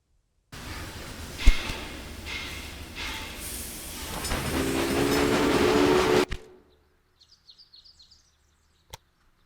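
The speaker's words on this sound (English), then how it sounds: "Now assemble a new train and give it a locomotive and a rail line." Train on a rail line in the video game Railway Empire: rumbling rolling noise with rhythmic chugging and clatter that swells for several seconds, then cuts off abruptly, followed by faint clicks.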